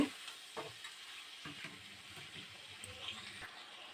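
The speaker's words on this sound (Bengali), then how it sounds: "ভালো করে ভাজা ভাজা করে নেব।" Pointed gourd frying in oil with chopped tomato, slit green chillies and salt gives a steady, close sizzle, broken by repeated scraping stirs from a spatula.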